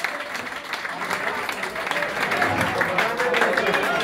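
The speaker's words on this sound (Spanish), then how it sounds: "Un aplauso." Concert audience at a rock club in Barcelona applauding, a steady wash of dense clapping that swells slightly toward the end, with a few voices mixed in.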